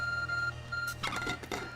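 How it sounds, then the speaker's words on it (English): A phone beeps in short steady electronic tones, then gives a busier burst of beeps and clicks, close by over a low background hum, with no talking. "phone is beeping"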